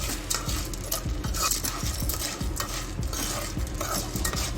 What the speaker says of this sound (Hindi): इनको इस तरह हिलाएं चम्मच के साथ और ये ऑयल में तकरीबन थोड़ा ब्राउन हो जाएंगे